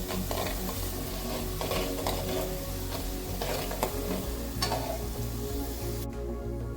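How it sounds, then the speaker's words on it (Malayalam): Crushed garlic, shallots, kanthari chili and curry leaves sizzle steadily in hot oil in a pan for fish mulakkittathu, with stirring scrapes and spoon clinks over a continuous fry. "ഇത് നല്ലോണം പച്ചമണം പോകുന്ന വരെ നമുക്കൊന്ന് ഫ്രൈ ചെയ്തെടുക്കാം."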